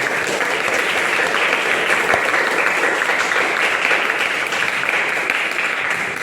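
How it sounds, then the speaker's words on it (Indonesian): Sustained audience applause at a teacher-certification practical performance exam, dense and steady clapping from a crowd filling the whole stretch at even loudness, with no voices on top. "Tepuk tangan semeriah mungkin buat kalian."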